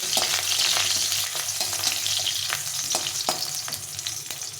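Urad dal vadi, small lentil dumplings coated with salt and turmeric, fry in hot oil. A dense, steady sizzle and crackle runs throughout, with repeated scraping knocks of a spatula stirring them in the pan.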